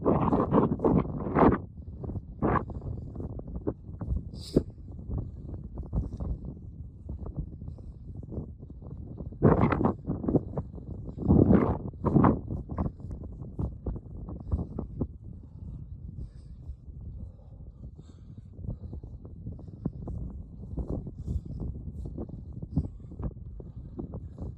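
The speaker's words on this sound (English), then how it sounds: "But it's windy." Gusty wind blowing outdoors in the Scottish foothills of the Tap o' Noth, buffeting a handheld microphone with rough low rumbles and stronger gusts around the middle, continuous and close with rustling handling noise.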